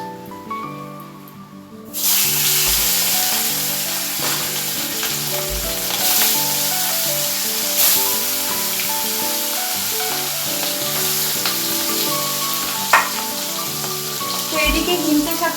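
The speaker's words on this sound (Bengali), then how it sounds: "আর আরেক দিকে হচ্ছে মাছ ভাজাটা বসিয়ে দিয়েছি" Hilsa fish fries in a pan in a home kitchen; a loud, steady hiss and sizzle starts after a brief quieter moment and keeps going, with sputters and a sustained tonal hum underneath.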